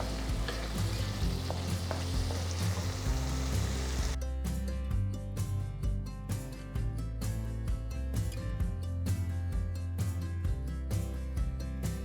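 A thick tomato and green masala sauce for lauki kofta curry bubbling and sizzling steadily in a pan, a continuous close frying hiss with soft popping throughout.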